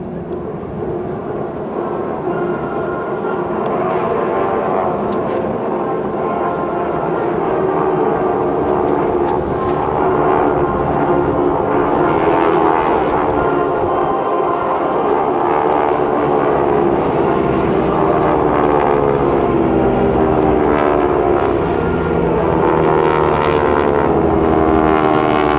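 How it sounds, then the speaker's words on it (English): Several GEICO Skytypers propeller airplanes fly over in formation at an airshow, a loud sustained multi-engine drone with shifting pitch that swells as they pass, continuous for the whole stretch. "the lead is taking the whole formation right on downtown once again to set up for the strafing pass"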